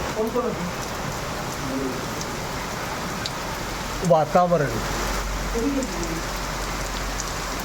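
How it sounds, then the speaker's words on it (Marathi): A steady mid-June monsoon drizzle falls in Maharashtra as an even, hissing patter throughout, with someone speaking calmly over it. "छान तास अर्धा तास किमान पंधरा मिनिटे निश्चितपणे रिमझिमत राहतो"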